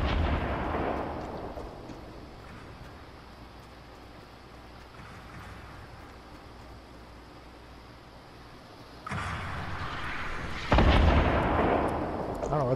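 Distant gunfire and booming explosions from a Fortnite firefight, including RPG blasts, thud and rumble in heavy bursts near the start and again toward the end, with a low steady wash of in-game ambience between them.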